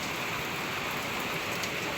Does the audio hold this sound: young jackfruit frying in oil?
no